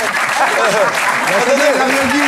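Studio audience on a French television comedy show breaks into steady applause on cue. Close, dense clapping runs for the whole short stretch, with a voice speaking over it.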